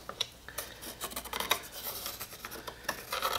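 Pencil scratches across wooden bases while circles are traced, giving a close, quiet run of short rubbing strokes with small clicks, uneven in rhythm and without voices.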